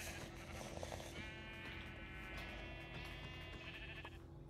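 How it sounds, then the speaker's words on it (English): A sheep in Minecraft bleating in a few drawn-out, wavering calls over a steady background of game music, with no talk. "Oh, that's a sheep right there."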